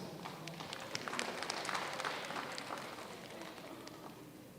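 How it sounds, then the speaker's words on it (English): Conference guests at the first ICSEAR event in 2025 give quiet, scattered applause, faint and distant, tapering off over a few seconds. "So all of the distinguished guests, please give your best applause"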